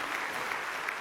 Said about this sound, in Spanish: Dale un fuerte aplauso si tú has sido perdonado.